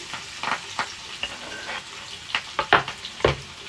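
Thinly sliced onions with curry leaves frying in a pan, a soft sizzle broken by several sharp scraping stirs of a spoon, close and clear with no talking.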